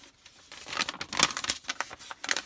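A Condor Woodbuster knife slices through paper in a series of close, crisp crinkling and tearing strokes, uneven in rhythm and moderately loud, with no talking.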